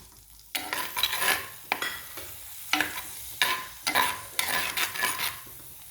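Tomatoes drop into a hot pan of oil and curry leaves for a squid curry, giving repeated bursts of loud, close sizzling and stirring scrapes. No one speaks.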